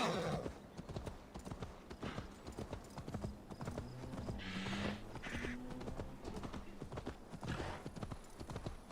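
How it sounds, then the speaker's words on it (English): Horse hooves clip-clop steadily through an open-world stretch of Assassin's Creed Valhalla, a near, rhythmic trot running the whole time with occasional whinnies and game ambience, and a voice talks briefly over it. "Horse."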